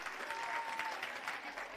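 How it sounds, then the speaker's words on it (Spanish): Audience applause at a school science talk on chemistry, a dense, steady wash of many hands clapping for a student volunteer, moderately loud and continuous throughout without a break. "Pues un aplauso a vuestra amiga"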